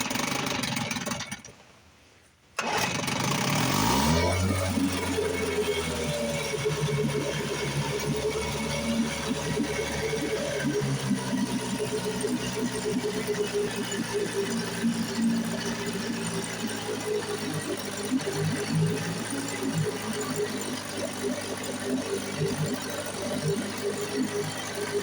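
A Johnson outboard motor pulls over briefly, then catches and settles into a steady, close mid-pitched running drone that continues alone for over twenty seconds.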